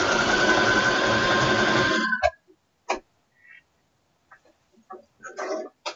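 A sewing machine runs steadily for about two seconds in a craft setting, a loud continuous mechanical whir that stops abruptly and leaves a few faint clicks and small handling noises.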